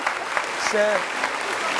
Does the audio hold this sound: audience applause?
yes